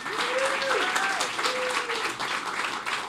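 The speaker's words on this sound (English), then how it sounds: "Applause again for Grace and her wonderful performance." Audience applause after a stage performance, steady and moderately loud, with a voice briefly heard over the clapping.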